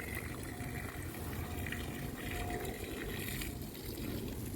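Water poured out steadily to irrigate a backyard garden, a continuous close splashing and gushing rush with no voices.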